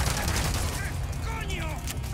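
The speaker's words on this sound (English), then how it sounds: "You shoot people, and then you continue to shoot people" Gunfire in Resident Evil 4 Mercenaries mode, rapid bursts of shots and mechanical clatter layered under a steady game soundscape, with a voice talking over it.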